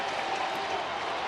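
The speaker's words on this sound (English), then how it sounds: "this is now the crowd anticipating the final out" A baseball stadium crowd at a Chicago at Cincinnati game cheers and claps, waiting for the final out, a dense, steady roar of many distant voices and applause.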